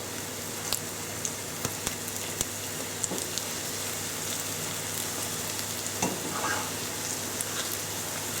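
Low-protein vege burgers fry in a pan with a steady close sizzle and crackle, dotted with small sharp pops, and no voices.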